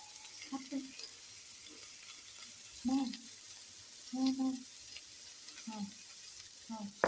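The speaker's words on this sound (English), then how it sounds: "Now they're sizzling." Bursts of sizzling from fried rice with turmeric in a frying pan come and go every second or so, with soft clinks of stirring between them, close by and moderately loud.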